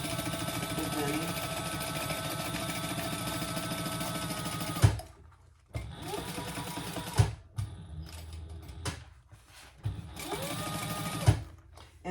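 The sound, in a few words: sewing machine stitching soft vinyl seams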